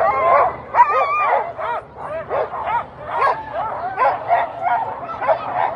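Excited sled dogs at the start of the Fur Rondy Open World Championship race in Anchorage give off a dense, continuous chorus of yips, whines and barks, close and lively throughout.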